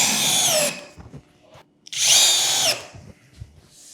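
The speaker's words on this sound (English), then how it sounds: "time to put the screws in." A power drill drives screws into material on a workbench in two loud bursts of whirring motor rising in pitch, separated by a short pause with faint handling sounds.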